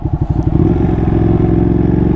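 Ducati Panigale 959 sportbike engine with a Termignoni exhaust, revving close and loud with a raspy, throbbing low note and a brief clattering rise.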